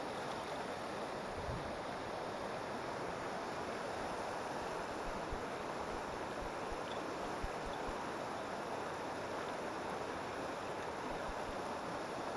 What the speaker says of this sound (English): That's cold, fast moving current.